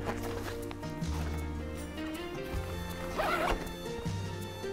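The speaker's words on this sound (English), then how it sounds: "You're going to close up that rainfly fully." A zipper draws closed along a tent rainfly in several quick, raspy pulls, close and clear against a quiet background.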